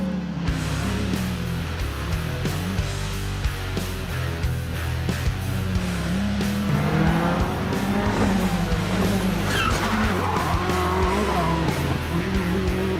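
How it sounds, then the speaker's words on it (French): A Peugeot 307 rally car drives hard with a roaring engine, shifting revs and repeated tire squeals and skids, loud and close throughout. "on va faire un petit tour avec la 307"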